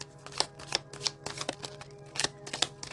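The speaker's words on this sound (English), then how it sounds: "This deck's a little bit tricky to shuffle." A deck of tarot cards being shuffled by hand, a quick run of soft, close riffling snaps and flicks under a quiet room hum, with no talking.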